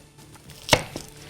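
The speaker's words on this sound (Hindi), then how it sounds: "और प्याज को भी हमने थोड़ा मोटा मोटा काट लेंगे।" A knife cuts an onion into thick pieces on a board: one loud, crisp chop followed by a fainter second knock, close up and with no voices.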